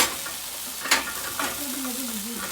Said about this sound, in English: I'm just stirring up to make sure the onion doesn't burn